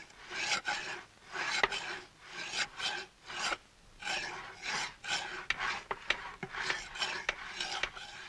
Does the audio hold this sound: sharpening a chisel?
yes